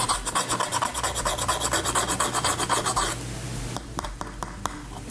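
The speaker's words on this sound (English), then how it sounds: "I'll take some sandpaper and just get some of this little stuff off." Rapid back-and-forth sandpaper strokes rasp against a small wooden finger longboard in a steady rhythm for about three seconds, then slower, lighter scraping follows close by.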